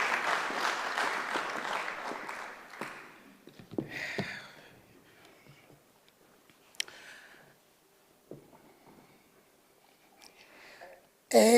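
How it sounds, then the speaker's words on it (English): Audience applause at a memorial service, moderate crowd clapping that fades within a few seconds into a quiet room with scattered shuffles, knocks and murmurs, then a voice begins at the end. "Let's give her a big round of applause, ladies and gentlemen."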